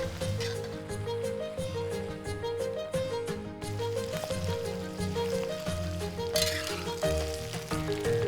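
Duck feet dropped into hot oil with garlic and chili powder in a wok, a steady loud sizzle and frying crackle running throughout, close up, with no talking.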